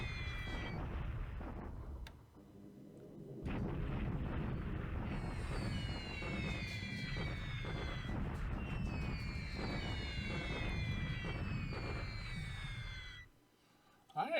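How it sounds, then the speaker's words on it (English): Simulated artillery and bombing rumble through a WWII strategy war game set in 1941 Malaya, with dense low booms and blasts running almost continuously, briefly dipping before resuming, with whistling high streaks over the barrage. "Bombing a stupid artillery unit, maybe we get some good shots in"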